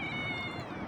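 A cat begging for meat lets out a single drawn-out meow, close and clear, holding steady for just under a second.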